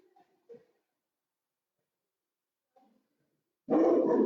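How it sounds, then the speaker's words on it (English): A dog gives a few soft, muffled woofs with long quiet gaps between them, then a sudden loud, close bark at the end. "Old Mort the dog trying to join the party."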